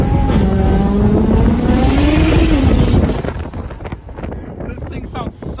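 A big-turbo BMW 335i engine pulls hard during a street race, rising in pitch under heavy wind noise, then drops to a rougher, uneven sound as the run eases off.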